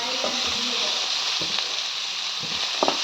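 Spices fry in hot oil in a pan, giving a steady bright sizzle with a few soft clinks of a spoon stirring, close and continuous.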